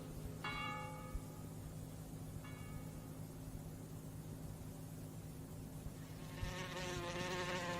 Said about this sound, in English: It's this wasp.